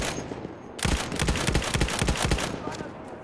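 Old rifles and machine guns firing in Battlefield 1, a rapid run of loud, sharp shots in a steady rhythm after a brief lull, with voices talking faintly underneath.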